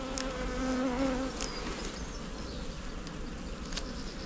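Honeybees hum steadily inside an opened hive brood box, a close, continuous buzz with individual bees droning past, plus faint handling noises.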